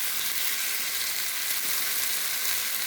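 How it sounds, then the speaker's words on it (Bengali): Spices and potatoes sautéing in hot oil for a fish curry give a steady, dense sizzle and crackle, close and continuous throughout with no talking. "এই যে আমি সুন্দর করে কষিয়ে নিচ্ছি"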